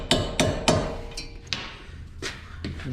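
Hammer blows ring out on the front brake assembly of a Ram Promaster 3500 as coating is knocked off a bolt; six sharp, close metallic hits come at uneven intervals, the later ones a little softer.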